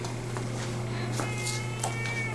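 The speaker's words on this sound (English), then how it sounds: "if you want to meet one of our cats" A diabetic cat at an animal shelter meows softly a few times over a steady room hum, faint and intermittent, with no one speaking.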